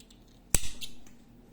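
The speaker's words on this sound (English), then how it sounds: "making one chain and cutting the yarn" A single sharp snip of scissors cutting crochet yarn, close and clear, followed by a brief rustle, with no talking.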